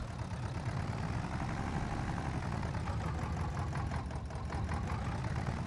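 Tractor engine in Farming Simulator 22 running at a steady idle, a continuous low rumbling drone with a faint knocking pulse, close and unchanging with no talk.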